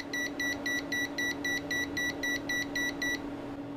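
A Kasuntest ZT102 multimeter beeps in a quick, evenly spaced series of about a dozen short electronic tones over a steady hum, then falls silent near the end.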